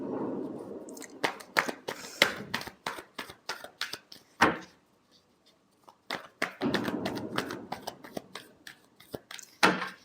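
Tarot cards being shuffled, quick crisp flicking and riffling bursts in clusters, close and fairly quiet, with a brief pause midway before the shuffling resumes.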